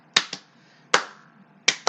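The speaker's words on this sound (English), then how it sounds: "Now double claps." Three pairs of sharp double claps ring out from a wrestling audience chanting in an arena, each pair crisp and close, separated by brief pauses.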